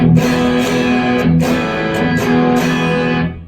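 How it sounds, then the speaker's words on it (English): Electric guitar through a JHS Kilt overdrive pedal with its gain switch off, a slightly cleaned-up driven tone with sustained chords and a few picked accents, loud and continuous with no talking. "gain switch not flipped, so that cleans it up just a little bit"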